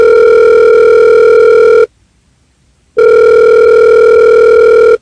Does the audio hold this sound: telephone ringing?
yes